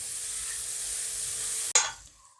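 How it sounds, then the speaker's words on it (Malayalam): Three large onions, finely chopped, sauté with ginger and garlic in a pan for a prawn roast. A steady close sizzle is cut by one sharp stirring burst that then fades quickly. "നമുക്ക് ഈ സവാള നന്നായിട്ട് വഴറ്റിയെടുക്കാം"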